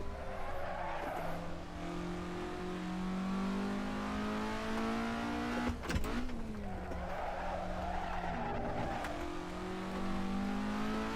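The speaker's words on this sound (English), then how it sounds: "Okay, that's a lot of understeering to hear." Race car tires squeal and scrub through corners in Assetto Corsa, a sustained wavering screech over the car's droning engine, with a short bump midway before the squeal returns.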